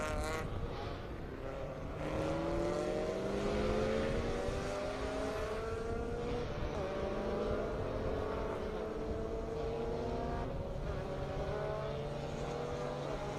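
Race car lapping Circuit of the Americas at a super lap battle event, its engine note rising and falling through gear changes as it passes, loud and sustained with track ambience and no talk.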